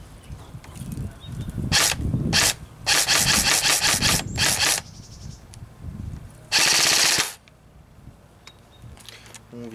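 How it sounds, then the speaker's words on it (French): Airsoft SCAR replica fitted with a silencer firing in several short and long bursts of rapid, muffled clacking shots, with quiet pauses between bursts, heard up close. "je vais vous mettre une petite séance de tir avec"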